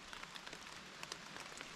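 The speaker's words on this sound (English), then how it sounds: "It feels like that now, just sitting in my tent in the rain." Rain falling on a tent while a hiker sits inside in the Maine woods, a faint steady patter of drops with scattered louder taps and no voices.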